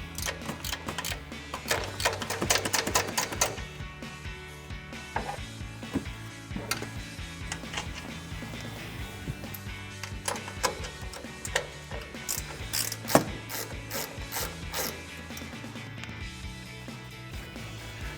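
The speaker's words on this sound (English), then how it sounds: "we'll take a 14mm ratcheting wrench to do so" A 14mm ratcheting wrench works loose the strut tower nuts on a Toyota 4Runner during a suspension lift install, giving steady rapid clicking and ticking close by over background noise.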